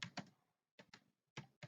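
A few quiet clicks of typing on a computer keyboard, coming in short clustered pairs with brief silent gaps between them.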